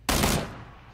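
A single sharp gunshot rings out in the PUBG video game. It is loud and sudden, with a brief tail that fades within half a second.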